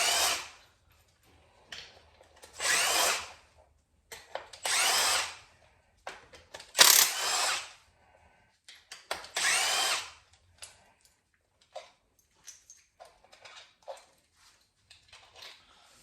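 Impact wrench with a 1/2-inch socket spinning out inner primary bolts on a Harley-Davidson during a drive belt replacement: five loud, close bursts of whirring and rattling, each about a second long, separated by short pauses and quieter clinks of handling.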